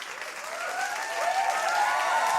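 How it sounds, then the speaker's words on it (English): An audience breaks into sustained applause, a dense wash of clapping that holds steady and swells slightly, with some cheering tones rising through it. "Get a round of applause, man."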